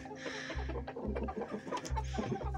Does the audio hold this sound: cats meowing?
no